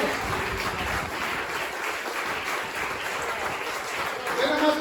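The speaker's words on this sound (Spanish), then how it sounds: "Denle un aplauso a Jesús" A church congregation claps during a service, a steady, even wash of applause throughout with voices mixed in beneath it.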